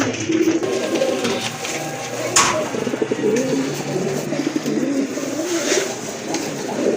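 A pair of red check pigeons coo in soft, repeated throaty rolls close by, with a brief higher chirp and faint background hum.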